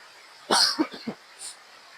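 A single harsh cough followed by a couple of short throaty bursts, close by, with a faint breathy sound after.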